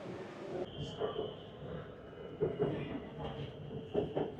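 A BTS Skytrain rolls through Siam station in Bangkok with a soft rumble and rhythmic wheel clicks, heard at a distance under faint station ambience.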